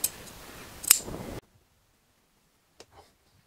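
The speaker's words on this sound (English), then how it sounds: "So I'm just going to cut away some of this excess." Scissors snipping through excess upholstery fabric on a high back chair, a close crisp cut over light rustling, then near silence with one faint tap.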